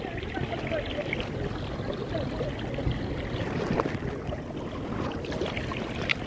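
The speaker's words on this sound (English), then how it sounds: "That's a lot of water, man." A large volume of water flowing in a constant broadband rush, with splashes and burbling throughout, up close and moderately loud.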